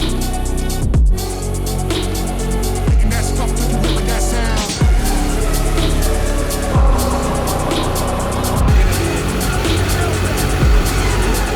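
An off-road build vehicle pulls another vehicle up a hill during a recovery challenge, its engine roaring loud and steady throughout, with revving surges and rough mechanical noise right up close.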